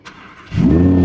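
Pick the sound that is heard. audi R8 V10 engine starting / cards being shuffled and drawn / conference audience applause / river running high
audi R8 V10 engine starting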